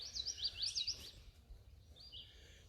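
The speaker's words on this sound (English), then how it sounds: "There's a house wren singing." A house wren sings a quick, bubbling burst of high chattering notes, then a shorter phrase follows, moderately distant over faint background hum.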